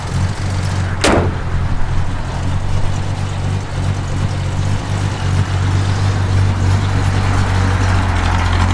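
A 1968 Pontiac GTO with a redone engine idles in a steady, loud, low rumble with even pulsing, and a sharp click or door-like knock lands near the start.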